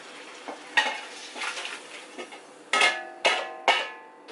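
Cajun lemon butter garlic shrimp dumped into a big pot, with a soft sizzle followed by several sharp metallic clanks of the pan against the pot, close by and without talking.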